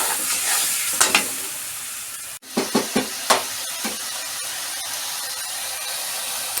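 Chira khichuri made with flattened rice is mixed with garam masala powder in a pan: a steady low bubbling sizzle, broken by a quick run of four or five sharp spoon knocks and scrapes against the pan.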